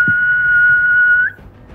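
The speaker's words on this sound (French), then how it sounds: "Tu vas l'entendre siffler." A single sustained whistled tone, steady and clear for over a second before cutting off, set in a French role-play adventure scene featuring a mycelium power; it stands alone with no talk over it.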